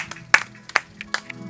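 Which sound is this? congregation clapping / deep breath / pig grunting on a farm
congregation clapping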